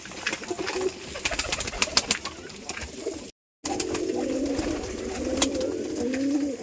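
Rajshahi Giribaz pigeons cooing close by, repeated soft throaty calls over faint background noise, with a brief silent gap midway before the cooing resumes more steadily.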